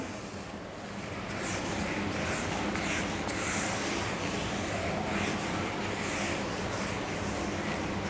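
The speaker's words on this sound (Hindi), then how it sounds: "चलिए अब मैं इसे रब कर रहा हूं।" An eraser or hand rubs over paper during a lesson, a soft continuous scrubbing texture that swells slightly after the first second and then holds steady, with no talking.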